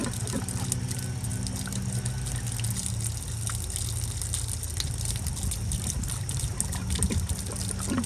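Water gushes and trickles steadily out through a hose while a pool is pumped down for winterizing, a continuous close splashing flow with a low pump hum underneath and no talking.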